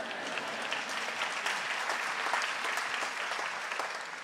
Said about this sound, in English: You can clap, it's fine.